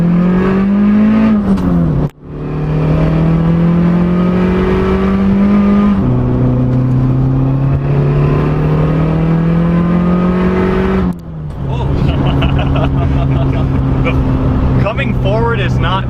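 A 500 HP Saab 9-5 accelerates hard on an open road, its engine rising in loud, strained pitch through the gears, with two sharp drops at the shifts before it climbs again.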